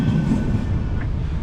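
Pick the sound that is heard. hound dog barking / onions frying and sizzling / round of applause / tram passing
tram passing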